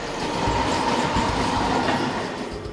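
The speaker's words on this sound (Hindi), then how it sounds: "तुषार के पिता 7:24 की फास्ट लोकल ट्रेन पर सवार हो गए।" Twelve-car Mumbai fast local train bound for Chhatrapati Shivaji Terminus, running loud and close with a constant rumble and clattering wheels on the rails and no voices.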